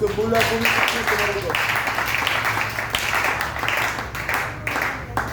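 A church congregation applauds and cheers in acclaim of Jesus Christ, a dense, steady wash of clapping and voices filling the room throughout.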